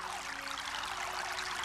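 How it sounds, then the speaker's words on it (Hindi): Water babbling and flowing in a natural spot surrounded by trees, a close, continuous bright gurgling rush with no talk over it. "प्राकृतिक स्थान, जल से भरपूर, जल की कलकल से भरपूर"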